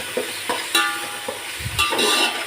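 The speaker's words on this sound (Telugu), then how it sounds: "మళ్ళీ కొద్దిగా బ్రౌన్ కలర్ వచ్చేంత వరకు వేగినిద్దాము" Vegetables and mint frying in a pan, with soft sizzling, a few stirring scrapes and light clinks, close and fairly quiet with no voice.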